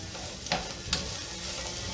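Cabbage being stirred in a frying pan for a one-pan seafood and vegetable dinner: a soft background sizzle broken by two brief, crisp utensil scrapes close by.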